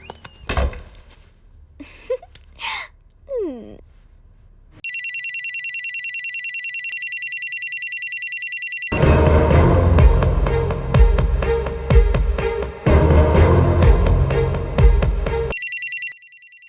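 A telephone rings loudly in long repeated bursts, with thumps and clatter between rings and a few faint sounds before it starts.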